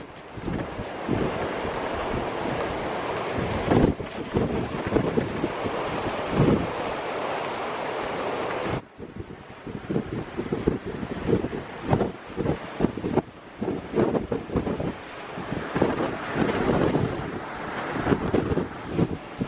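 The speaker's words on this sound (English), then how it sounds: "That wave breaking over Malyon Island." Storm waves break on the Cornish coast near Malyon Island, a loud continuous roar of surf with gusts of wind buffeting the microphone and occasional heavier crashes, with no talking.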